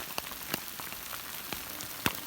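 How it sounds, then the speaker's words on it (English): Small hailstones fall on a mountain trail at Twin Lakes, Colorado, with a soft continuous patter and a few sharp distinct ticks of stones striking nearby surfaces. "It's starting to hail."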